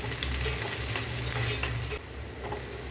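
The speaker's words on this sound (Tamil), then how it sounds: "கருவேப்பிலை, அப்புறம் சின்ன வெங்காயம் போடுறேன்." Small onions and curry leaves sautéing in a pan for a spicy fry, a dense close sizzle with stirring scrapes that drops noticeably quieter partway through, no voices heard.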